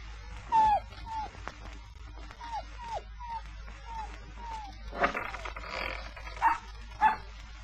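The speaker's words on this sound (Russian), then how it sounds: "Видишь, как лает. Не угомонится никак." A dog barks repeatedly in the middle distance, single barks and short yips spaced irregularly over a low steady hum, with faint outdoor background noise.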